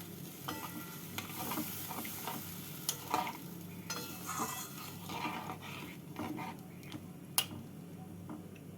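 Water goes into a hot pan of spicy shol (snakehead) fish curry with potatoes. A soft, steady sizzle plays under light stirring scrapes, with one sharp metallic clink near the end.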